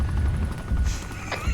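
Helicopter in ARMA 3 landing during a clan operation, a dense rotor and engine roar filling the whole stretch with a steady wash, loud and continuous.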